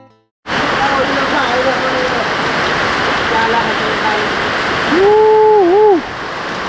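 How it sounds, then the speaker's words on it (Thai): Steady, loud rain hisses continuously, with a voice speaking over it near the end. "ฝนตก3-4 มื้อแล้วฝนตกยังบ่หยุดบ่เศร้า"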